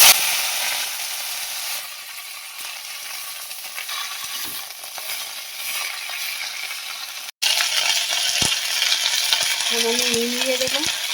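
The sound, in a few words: leafy greens frying in hot oil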